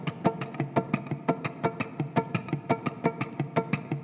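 Percussive fingerstyle guitar pattern looping steadily, with thumb dead notes and body hits forming a quick, even rhythm of sharp plucked and slapped strikes, close and alone.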